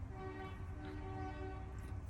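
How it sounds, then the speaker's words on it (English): A train horn sounds as one long, sustained toot at moderate distance, holding steady throughout with no clear breaks. "If you heard the train toot there"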